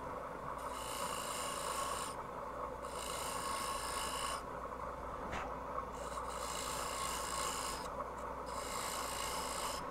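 Scored wood being cut on a lathe at a woodturning event: a steady hum of the spinning workpiece with repeated bursts of hissing, scraping tool cuts, each lasting a couple of seconds.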